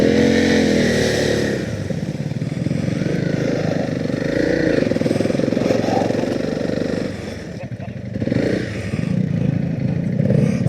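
A motorcycle rides off-road across trackless sand on a single-track trail in Spain, its engine droning loudly and revving up and down with a brief easing midway, a rider's voice occasionally heard over it.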